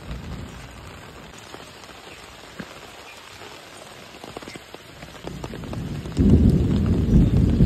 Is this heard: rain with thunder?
yes